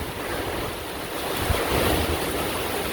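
Heavy rain pours down beside a porch, a dense, steady roar of falling water and spatter that stays loud and even throughout, with some gusty wind noise.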